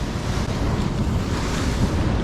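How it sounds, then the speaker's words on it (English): Ocean waves surge steadily against a rocky intertidal shore, a loud continuous wash with gusting wind buffeting the microphone and no talking. "being careful about the waves. Never turn your back on the ocean."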